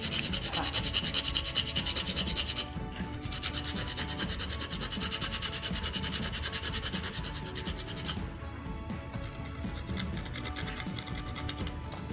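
Half a fresh nutmeg is grated on a small hand grater into a pan of plantain and oat porridge, making continuous close dry rasping and scratching strokes that carry on steadily with brief pauses.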